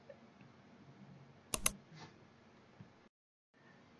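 Computer mouse clicks at a desk, a quick close double click standing out from faint background hiss, followed by a short drop to silence.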